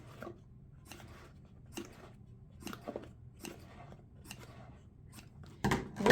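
Regular, close snips cut around a Halloween fake cake, about seven evenly spaced cuts over six seconds, ending in a louder rustling burst.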